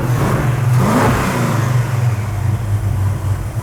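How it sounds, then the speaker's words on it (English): A muscle car engine revving hard, a loud, close, throaty rumble that climbs and holds at high revs for a few seconds with no voices. "All right, rev it up again."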